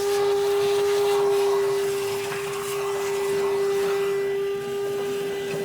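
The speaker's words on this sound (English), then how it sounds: "I have this Porter cable drill set, and I like to use this Porter cable vacuum." A Porter Cable cordless vacuum cleans out a pellet grill and its fire pot, running with a steady whine and a strong single tone, with airy rattles of debris being sucked up nearby.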